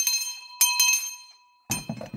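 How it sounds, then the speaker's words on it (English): An old fire brigade bell from wartime training stations rings in a few sharp, bright clangs that ring on and decay, then pause before a final cluster of strikes and rattles. "The fire brigade bell, I think it's from the training stations from back in the war days."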